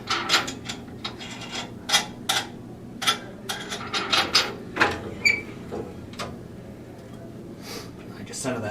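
A drill press bores into a bowling ball, giving loud grinding, ratcheting bursts in irregular surges with pauses between, close and harsh, while a person talks intermittently.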